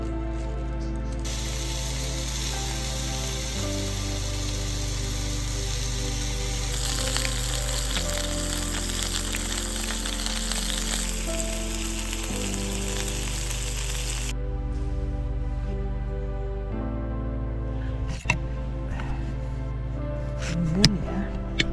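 Beef sausages with potato and onion sizzle steadily in a pan at a forest campsite, a loud continuous frying hiss that shifts in intensity, with a few clicks and clanks near the end.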